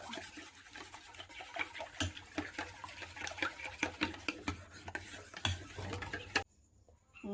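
Beaten eggs seasoned with salt, pepper powder, cumin and asafoetida are whisked briskly in a bowl for an egg roll, producing rapid rhythmic clicking that stops abruptly near the end, leaving near silence.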